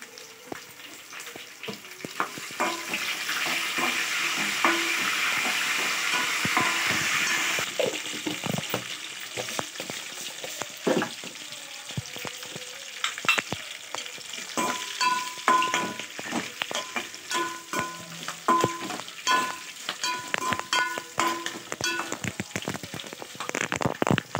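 Dried red chillies and curry leaves frying in oil make a strong, steady sizzle that drops off partway, then turns into scattered crackles and pops with occasional stirring clinks.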